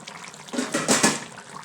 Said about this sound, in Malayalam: തീയിൽ നല്ലപോലെ തിളച്ചിട്ടുണ്ട്.